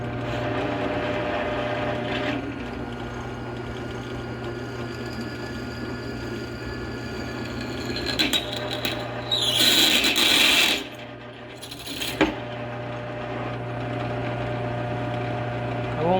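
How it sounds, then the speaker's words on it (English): A drill press bores holes in a metal blade guard, a steady motor hum with a louder grinding, whining burst of cutting partway through, then the motor running on alone. "We're going to go ahead and get those 3 holes drilled."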